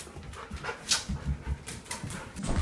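A dog pants rapidly and lets out small whimpers indoors, quick breathy puffs with a few higher whines, close and moderately loud, no speech.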